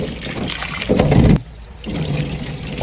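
Tap water runs and splashes while sweet potato and carrots are rinsed in a kitchen, a steady close trickle that swells briefly and then settles, with no talking.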